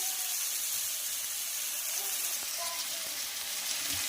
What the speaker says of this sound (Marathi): यामध्ये आपण आता हे चिरलेल्या भाज्या घालूया